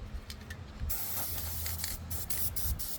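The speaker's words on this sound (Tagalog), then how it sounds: "mag-spray lang po tayo ng WD-40 guys" WD-40 spray can hissing into the opened interior of an air pump, a dense continuous aerosol hiss that starts about a second in, with short bursts and slight mechanical rattles, close and loud.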